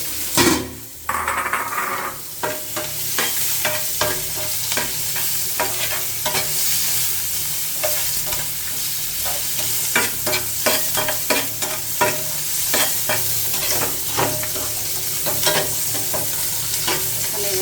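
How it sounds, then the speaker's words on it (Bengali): Onion and garlic frying in hot oil sizzle loudly and steadily, with repeated scraping and stirring clinks of a utensil against the pan running throughout. "এখন আমি ওই তেলে দিয়ে দেব পেঁয়াজ আর রসুন"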